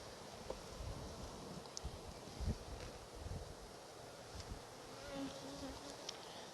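Honey bees buzz around an open hive during a nectar flow, a faint, steady drone with individual bees passing near, under light wind noise.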